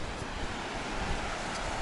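Sea waves at the Belgian coast near the Zwin Nature Park, a steady broad wash of surf mixed with wind buffeting the microphone, continuous and fairly loud with no voices.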